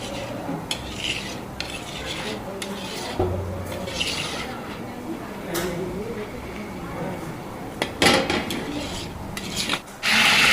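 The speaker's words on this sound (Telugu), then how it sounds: "దాల్చా అయితే రెడీ అయిపోయింది ఒకసారి కలుపుతున్నారు" A large pot of dalcha lentil curry is stirred while cooking at a feast, the ladle rubbing and scraping steadily against the vessel under background chatter, ending with a louder clatter.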